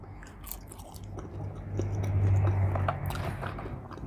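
McDonald's fries being chewed up close, soft wet mouth sounds and light crunches that grow louder in the middle, with no talking.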